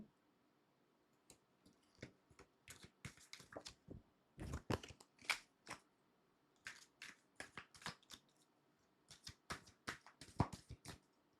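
Tarot cards are shuffled by hand in short bursts of soft riffling and slapping, quiet and close, with brief pauses between bursts.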